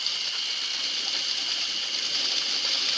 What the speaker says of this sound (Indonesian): ujung selangnya saya akan pencet biar RPM-nya nambah, biar tekanan airnya kuat